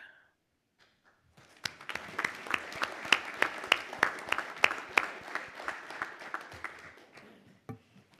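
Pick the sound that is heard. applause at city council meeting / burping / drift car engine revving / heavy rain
applause at city council meeting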